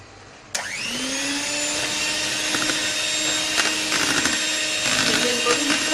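An electric beater whirs into pistachio ice cream mixture, starting with a sharp click. The motor then holds a loud, steady whine with rising pitch and occasional scraping knocks against the bowl.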